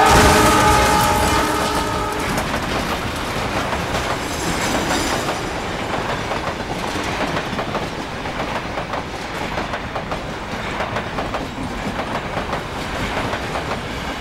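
A train rattles loudly past an unmanned railway crossing, a horn blast at the start giving way to steady clattering wheels and rumbling cars that carry on throughout.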